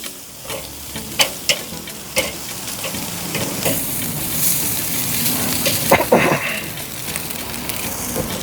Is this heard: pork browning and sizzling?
yes